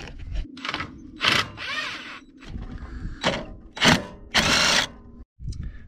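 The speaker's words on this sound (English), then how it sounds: "I didn't have nice tools like this, like a nice cordless impact." A cordless impact driver works loose the engine mount bolts on a Bolens QT16 garden tractor during removal of its Onan engine, giving several short, loud whirring and hammering bursts separated by pauses, close up.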